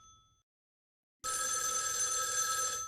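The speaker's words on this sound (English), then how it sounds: "Someone or something wants us to answer the phone." A telephone rings in a horror game set inside an eerie house: a faint brief tone, a moment of silence, then a loud, close, sustained bright bell ring.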